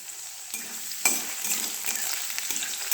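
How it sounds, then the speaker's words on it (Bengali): Chopped garlic frying in a pan, a soft continuous sizzle with a few sharper stirring knocks and scrapes, quiet and close with no talking. "রসুনগুলো দিয়ে ফ্রাই করে একটু"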